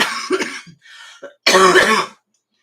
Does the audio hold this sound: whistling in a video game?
no